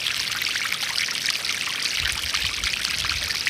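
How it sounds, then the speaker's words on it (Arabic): Water tumbling over a small waterfall at a river, a steady full rushing wash with fine splashing texture, near and continuous throughout with no voices over it. "من هنا واحد شلال صغير، هانتوما غنديكم باش تسمعوا الصوت ديال الماء"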